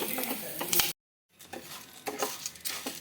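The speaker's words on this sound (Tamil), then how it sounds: "இப்போ இதை வறுத்துட்டு இருக்கும் போதே ஒரு கைப்பிடி அளவுக்கு நான் வந்து கருவேப்பிலை சேர்த்துக்கிறேன்" Handful of curry leaves dropped into hot oil in a pan for vetha kulambu, crackling and sizzling with scraping stirs, a short silent gap, then steady frying resumes close by.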